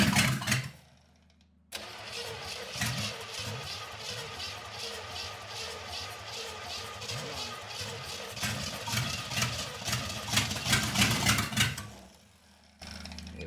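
A small-block Chevy 350 that had sat for 15 years cranks and fires up after a brief pause, then runs roughly with uneven surges and revs before cutting out near the end.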